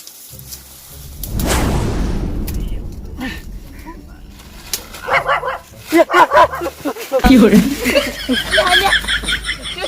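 A pet female dog barks and yips in loud close bursts, with some whimpering, mixed with people talking over and between the barks.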